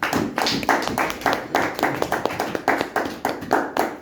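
A church congregation claps together in acclaim, a loud, fairly regular run of hand claps in a lively rhythm that carries on steadily without voices over it.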